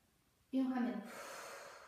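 A single sharp inhalation during a morning energizing exercise routine, taken as a leg is swung upward; a sudden close breath that starts loud, then trails into a softer, sustained airy hiss.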